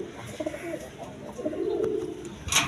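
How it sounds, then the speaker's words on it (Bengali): A pair of Jacobin pigeons sitting on two eggs coo in low, rolling phrases, with a longer coo swelling near the end and a brief sharp noise just after, close by in a quiet loft. "এখানে এক পেয়ার জ্যাকোবিন কবুতর আছে"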